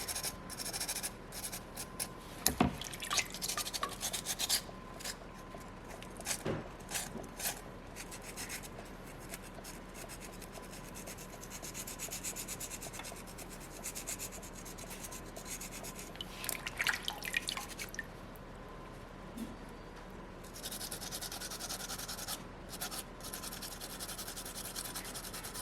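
Wet sanding of a small soapstone seal carving, with faint scratchy rubbing strokes and occasional drips and rinsing sounds, fairly quiet and steady over a low background hiss.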